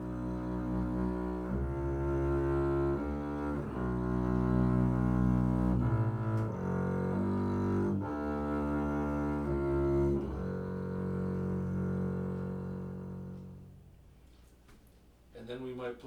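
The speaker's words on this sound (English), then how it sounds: "sometimes we get to play something that's deep, dark, and mysterious with the bow" Double bass bowed with a German bow in a deep, dark, mysterious passage, slow sustained low notes swelling and shifting, fairly quiet, fading out near the end before a faint rustle.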